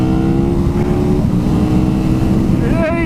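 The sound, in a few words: KTM 1290 Super Duke R motorcycle engine accelerating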